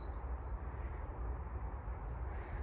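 Garden birds, including a coal tit in a tree, give a few short high chirps and one thin drawn-out call over a soft outdoor background hum, fairly distant and without talk.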